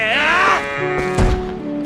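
Goat bleats from livestock at the ranch in the Zelda: Twilight Princess video game, a wavering bleat up front followed by softer animal calls and game sounds, close and moderately loud, without talk.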